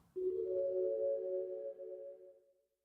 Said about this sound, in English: Gated pad reverb.